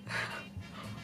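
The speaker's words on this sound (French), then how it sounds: "c'est mon chien qui s'excite." An excited pet dog pants in quick, close breaths, a short burst of soft huffing and snorting.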